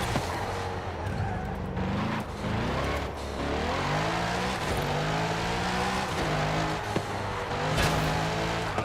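A Dodge Hellcat in Forza Horizon 5 roars through gear changes with rising and falling engine pitch, while squealing tires cut in repeatedly, loud and continuous without talk.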